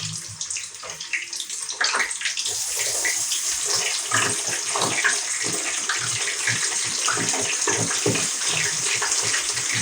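A kitchen tap runs in a steady, loud gush while hands are washed under the stream during a children's cooking session, with faint voices underneath.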